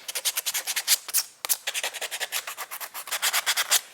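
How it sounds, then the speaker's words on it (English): Hand sanding of wood with a worn piece of 150 grit sandpaper during a cane sword build, a brisk run of close, rhythmic scrubbing strokes with one short pause. "Now we're gonna sand it, touch, just to get everything evened out"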